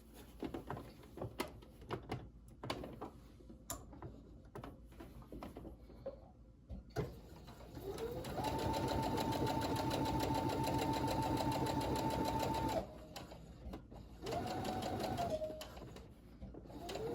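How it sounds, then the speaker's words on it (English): A sewing machine understitching a fabric tunic, running in a steady whirring hum for about four seconds, then a shorter second run, after quieter handling clicks and rustles. "I'll just take this to the machine and understitch."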